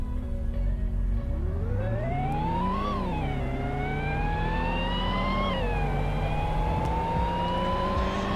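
A car in the Roblox game Greenville accelerates through a 5-speed automatic, its engine whine climbing in pitch, dropping at each upshift, then rising again, loud and continuous with no talk.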